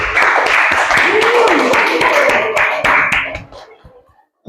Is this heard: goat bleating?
no